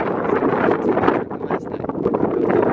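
Extreme wind buffets the microphone outdoors, a loud, continuous roaring rumble with gusty swells and dips, close and unbroken.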